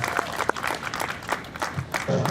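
An audience applauds Representative Leslie Love in a legislative setting, giving brisk, irregular clapping with sharp individual claps and crowd murmur. A voice rises near the end.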